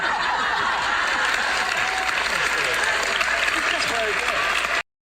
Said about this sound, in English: And the audience starts clapping